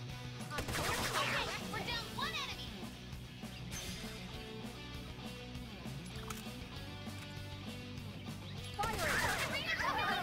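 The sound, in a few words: gunshots from video game Persona 5 Tactica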